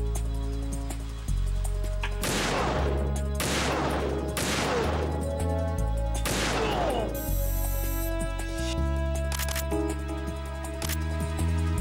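Gunfire in the PlayStation 2 game Metal Gear Solid 2: Sons of Liberty, where four loud broadband bursts about two seconds apart ring out over a steady game music bed, followed by lighter clattering hits.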